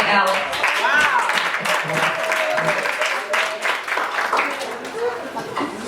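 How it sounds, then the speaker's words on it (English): An audience claps for a panelist named Alex at a women's summit, with a burst of steady applause and scattered voices talking and chattering over it. "Let me clap one more time for Alex."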